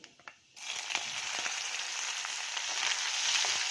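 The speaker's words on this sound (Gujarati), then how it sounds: "આપણું તેલ ગરમ થઈ ગયું છે એમાં નાખીશું આપણે એક ચમચી જીરું જીરુંને આપણે સોતળવા દેશું" Cumin seeds, about a spoonful, sizzle in hot oil after a couple of soft clicks as they drop in, settling into a steady, close, bright crackle with scattered pops and no talking.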